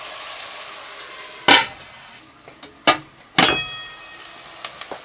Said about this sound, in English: The onions are getting brown now.